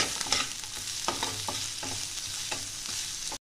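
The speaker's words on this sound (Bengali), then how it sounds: "একটু হালকা ভাজা ভাজা হবে।" Garlic cloves, green chillies and chopped ginger fry gently in a pan, a soft continuous sizzle broken by several scraping strokes of a stirring spoon, close and moderately quiet.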